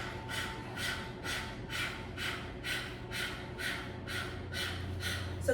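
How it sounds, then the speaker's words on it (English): A person pants rapidly with the tongue out like a dog, a fast even train of breathy huffs at a steady rhythm, close but soft, with no speech. "And we're going to start panting."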